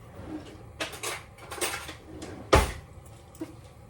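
A small metal spoon clinks against dishes and cutlery in a home kitchen while beef tips with garlic potatoes are cooked, giving a few scattered light taps and one sharper close clatter, with no talking.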